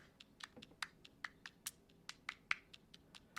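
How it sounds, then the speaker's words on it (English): A sampled clap percussion loop plays crisp, dry hand-clap and tap hits in a quick, uneven rhythmic pattern, sharp and isolated against a quiet background. "we have this little kind of clap percussion loop"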